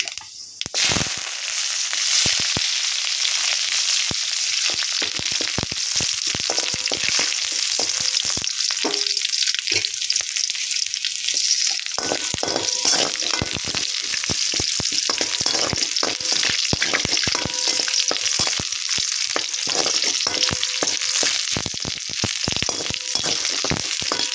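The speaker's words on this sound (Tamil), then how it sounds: "ஆயில் விட்டுட்டேன் கொஞ்சமாக கடுகு சேர்த்துக்குவோம் கொஞ்சம் ரெண்டு சின்ன வெங்காயம்" Mustard seeds and small shallots frying in a little oil: a loud, continuous crackling sizzle with dense spluttering pops throughout, close up, with no voices.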